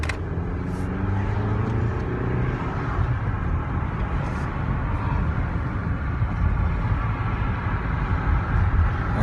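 A newly bought car pulls away and cruises, giving a steady, close road and engine rumble with no talking.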